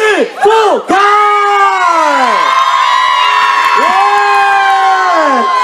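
A festival concert crowd at an outdoor Hakka tea-picking song festival in Toufen, Miaoli, cheers and whoops loudly for a singer. The sound holds steady with rising and falling high shouts throughout and no clear pauses.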